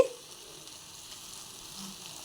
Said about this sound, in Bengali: হলুদ গুঁড়ো দিয়ে ভালো করে নেড়ে নিয়ে তারপরে দিয়ে দিচ্ছি